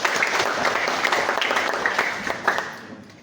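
An audience at a formal public information event bursts into steady applause, a dense wash of many hands clapping that tapers off toward the end, with no speech over it.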